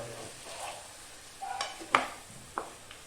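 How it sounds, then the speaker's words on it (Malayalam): Onions being stirred and sautéed for a chicken dish, with a soft, low sizzle beneath a few distinct scrapes and knocks of a utensil against the pan. "ആദ്യം സവോള ഒന്ന് മൂത്ത് വരണം ഒന്ന് ഇളക്കുക"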